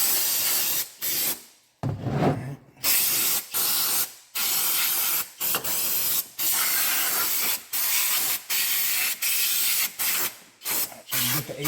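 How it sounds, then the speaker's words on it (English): Cleaner sprays in repeated short, loud hissing bursts onto oily engine pulleys of a 2.4 liter Chevrolet Equinox, with brief pauses between each spray. "So I'm going to also spray all these pulleys, which I'll probably do quite a bit from the top."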